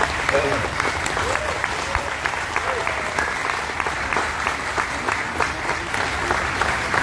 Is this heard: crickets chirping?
no